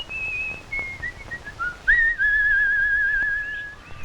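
A puppet character whistles a clear, sliding melody of sustained tones, close and loud over a faint background hum.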